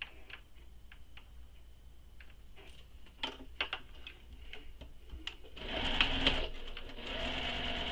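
A sewing machine stitches a bag seam, starting with scattered ticks and short needle bursts, then running steadily in a louder continuous whir near the end.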